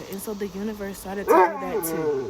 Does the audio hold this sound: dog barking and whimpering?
yes